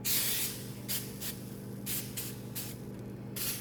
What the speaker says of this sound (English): we're going to spray this with a little bit of just some coconut nonstick cooking spray